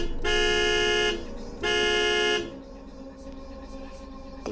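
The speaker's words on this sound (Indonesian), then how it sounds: "Tiba-tiba sebuah mobil memberi lampu tembakan sambil membunyikan klakson" A car horn honks twice on a toll road at night, two sustained blasts about a second each separated by a short gap, followed by steady road noise.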